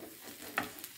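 Rava-coated fish sizzling on a hot tawa, a soft steady frying hiss with one brief sharper crackle midway and a faint pop near the end, no voices.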